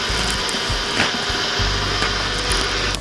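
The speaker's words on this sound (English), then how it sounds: "Now start to blending." Kitchen blender whirring through green chutney ingredients with a little water, a loud steady motor drone with brief dips as the load shifts.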